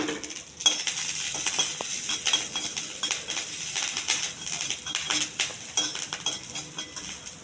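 Dried red chillies, curry leaves, cumin and mustard seeds tempering in a drop of oil for a roasted gram chutney, with quiet crackle and sizzle plus clinks of a spoon stirring in the pan.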